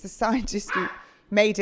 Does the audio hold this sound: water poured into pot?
no